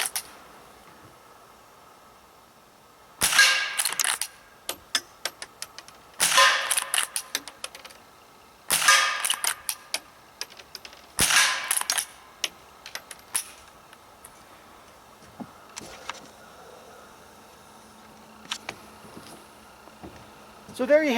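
A Rossi .22 lever-action rifle fires at an old pan hung up as a target. Four sharp reports are spaced a few seconds apart, each followed by the metallic clatter of cycling the lever, and quieter handling clicks come after.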